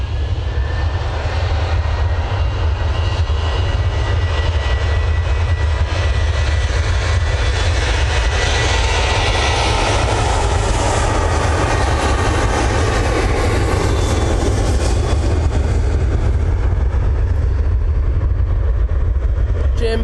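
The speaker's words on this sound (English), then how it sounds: "Let's get this Ryanair 737-800 now on the roll." A Ryanair Boeing 737-800 jet takes off from Manchester Airport bound for Faro, its loud, sustained engine roar swelling to a peak midway and holding strong without talk.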